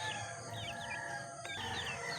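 A rooster among pet chickens crows in the early morning, a rising call heard over steady outdoor background noise with other birds chirping nearby.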